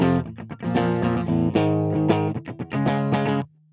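Electric guitar run through a Fractal amp modeler set to a dark, distorted tone, playing a short strummed and muted riff for a few seconds, loud and close with no talk.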